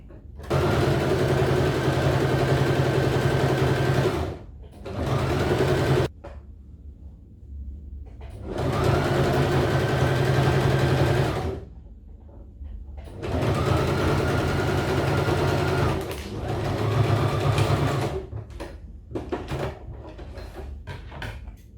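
A sewing machine stitches trouser pieces together while a fly-front trouser is being made, in several loud, close bursts of steady whirring a few seconds each, broken by short pauses filled with faint handling clatter.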